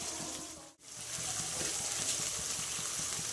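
Spice paste for egg curry sizzles and fries steadily in hot oil in a pan, with a brief dip in the noise before the crackle resumes, close and fairly soft.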